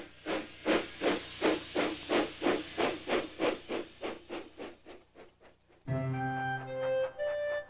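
Cartoon steam engine from Thomas & Friends puffing along in a regular rhythm of loud chuffs, about a dozen bursts that slow and fade before a bright musical chord takes over.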